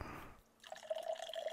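Drink poured into a cup, close and quiet: a short hiss, then a steady trickling, dripping pour with no voices.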